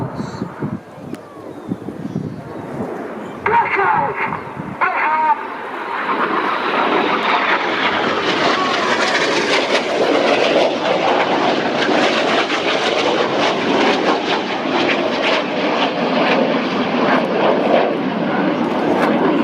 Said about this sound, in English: Each pilot now flying their aircraft at around 400 miles per hour.